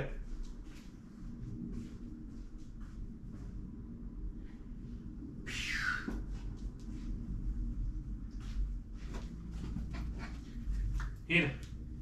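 A small dog pants in quick, breathy bursts and lets out occasional high whimpers, close by and fairly quiet, with people talking softly in the background.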